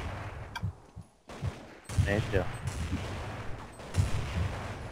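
Gunfire from Counter-Strike 1.6 comes in short bursts and single bangs, loud and close, with a player talking over the shooting.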